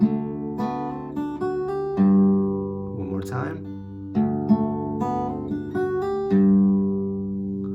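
Acoustic guitar playing a bouncy slack key vamp pattern, bass notes alternating with strummed chords, close and clear, with a few brief spoken words mixed in.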